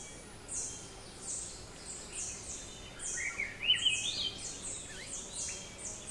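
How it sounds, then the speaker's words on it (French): Three-wattled bellbird calling in cloud forest: a series of sharp, high chirping and piercing notes repeats at a fairly regular rhythm over quiet forest ambience, with a brief louder burst partway through and other birds faintly in the background. "chants les plus perçants de la forêt de nuages est celui de l'Araponga tricaronculé"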